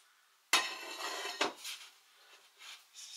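Minced beef in hot lard or oil is broken up with a kitchen gadget in a frying pan: a sharp metallic clank, then scraping and rattling against the pan, close and clear.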